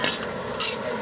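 Garlic sizzles in hot oil for vatha kuzhambu, a bright hiss swelling in two quick bursts as a ladle stirs it in the pan.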